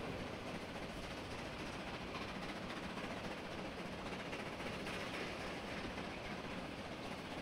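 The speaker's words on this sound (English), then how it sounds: "Oh, there's an oncoming train." A train rolls past steadily in the Transport Fever 2 railway game, a continuous broadband rumble with faint clickety-clack holding level throughout, no talk over it.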